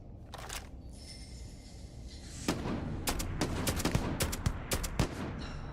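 Gunfire in the space shooter Starfield, a burst of sharp shots, loud and close, landing in a quick irregular cluster after a quieter lead-in with a faint hum.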